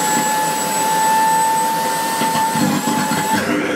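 A vacuum cleaner motor run at 240 volts, well past its 1800-watt rating, whines loudly and steadily with strong tonal harmonics, then wavers and falters near the end as it strains.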